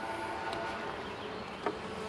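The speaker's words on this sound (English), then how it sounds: "looking down in here, I see bees across all of these frames here" A low, steady hum of many honeybees buzzing close by inside an open hive, continuous and droning with a faint knock near the end.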